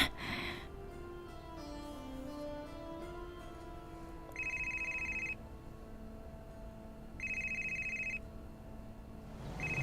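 A telephone rings twice on an outgoing call in evenly spaced electronic bursts, with a soft tonal backing between the rings and no voices.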